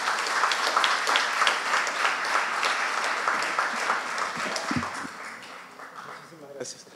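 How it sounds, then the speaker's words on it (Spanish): Audience applause for a teacher at a ceremony honouring schoolteachers, a dense sustained clapping from a full room that slowly thins toward the end. "El aplauso para él."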